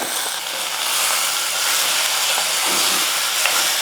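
Potatoes sautéing in oil on a stove turned low, a steady broadband sizzle and hiss close by, even and continuous with no voices.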